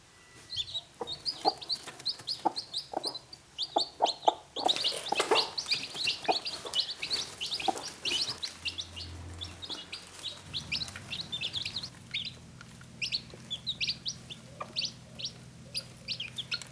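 Backyard hens cluck and call steadily around feeding time, with a busier, louder burst of clucking in the middle and quieter fowl chatter and chirps continuing throughout.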